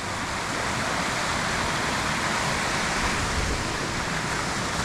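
The Cober River at Kennall Vale flows with a steady, broad rushing hiss, fairly close and unbroken, with no voices over it.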